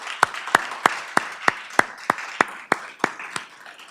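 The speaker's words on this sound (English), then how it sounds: "I just want to give the parents a round of applause for how they do it." Regular, evenly spaced hand claps, about three per second, at a scholar-athlete recognition ceremony honoring supportive parents; moderately loud and clear, with no talking over them.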